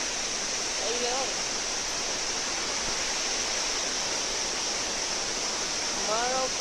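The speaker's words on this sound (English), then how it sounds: "at the Maricopa Waterfalls. I'm pretty sure you can hear it by now." Marokopa Waterfall roars as a steady, broad wash of falling water heard from a viewing spot close enough to feel the spray, continuous and even throughout with faint bird chirps near the start and end.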